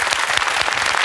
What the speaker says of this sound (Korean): 큰 박수 네.